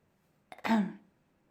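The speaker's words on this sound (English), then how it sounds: "Shen Qingqiu coughed." A single short cough or throat clearing, performed by a narrator's voice in an audiobook: a brief catch followed by a rougher burst, close and isolated against near silence.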